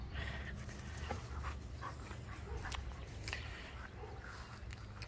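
Dogs panting and whimpering in a backyard garden, faint and close, with rapid breathy panting, scattered yelps and scuffling against soft outdoor background.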